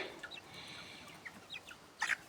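Soft clucks and chirps of young chickens come in short scattered bursts over a quiet outdoor background, with a louder cluster of calls near the end.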